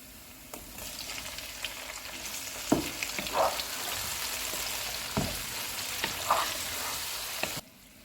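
Tomatoes frying in a pan with ginger-garlic paste over lowered heat, a steady close sizzle with occasional stirring clicks before it cuts off abruptly near the end.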